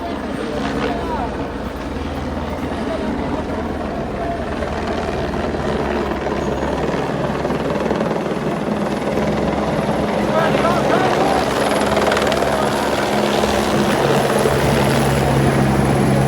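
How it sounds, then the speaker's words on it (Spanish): A helicopter circles overhead during a military withdrawal for Noboa in Otavalo, a loud, sustained rotor drone that swells slightly as it passes, with crowd noise and voices in the background. "El helicóptero rodeando todo el tiempo haciendo bulla para que nadie grite"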